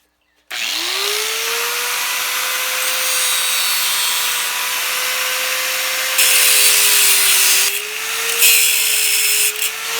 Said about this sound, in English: Just cut off a section of this tube here so I can get access to the steering shaft.